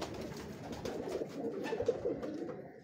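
Pigeons coo on a rooftop in Lahore, soft repeated murmuring calls close by over a steady bed of outdoor noise, with one slightly louder coo near the middle.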